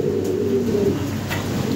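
A Lahori pigeon coos in a low, continuous rolling murmur close by, with no voices over it.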